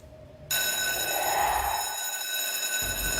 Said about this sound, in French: la sonnerie vient de sonner la fin des cours